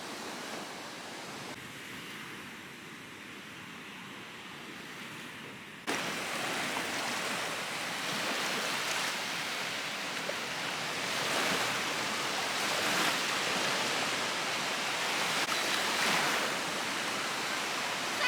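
Steady surf washing onto the shore at Waukegan Beach, a broad continuous roar of breaking waves that grows fuller and louder partway through and holds without pause.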